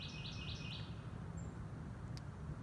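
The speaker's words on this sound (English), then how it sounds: "Sun's going down, beautiful trees, beautiful song of a bird." Soft bird song drifts through a forest at sunset, a few quick repeated chirping phrases early on over a faint background hush, then a lone later note.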